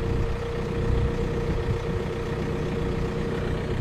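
The 2.0 CRD diesel engine of a Chrysler Sebring idles close by with a steady, low, even drone that holds throughout, and no speech is heard over it.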